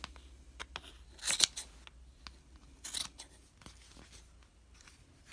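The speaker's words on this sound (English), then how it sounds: "And we're going to trim it a little bit more." Scissors snip yarn on a Bucilla pom pom maker in a few quick, close cuts, with light crisp clicks and soft rustling between them in a quiet room.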